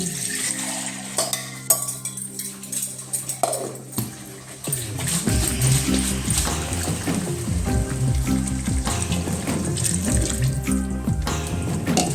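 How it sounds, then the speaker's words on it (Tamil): Water runs steadily from a tap into a mixer jar, splashing and gurgling as it fills, with clinks of the vessel. "மிக்சியை கழுவி கொஞ்சம் தண்ணி நம்ம ஆட் பண்ணிக்கலாம்"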